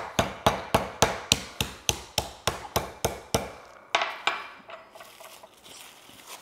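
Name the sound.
spiky side of meat tenderizer pounding a steak fillet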